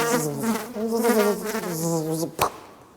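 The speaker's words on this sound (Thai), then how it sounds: "หรือแมลงวันครับ" A housefly buzzes loudly nearby, its drone rising and falling in pitch, ending with a short tap and fading out.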